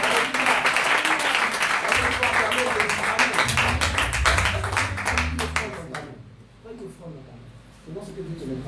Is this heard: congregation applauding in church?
yes